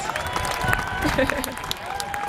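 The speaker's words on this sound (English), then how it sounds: "Give them a big round of applause" An audience at a quidditch world cup opening ceremony applauds the referees, a brief burst of clapping and a few cheers with voices mixed in.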